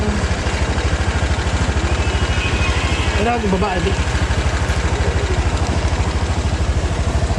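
A motorcycle engine idles close by with a steady rapid chugging throb that carries through the whole stretch, while a person briefly speaks over it.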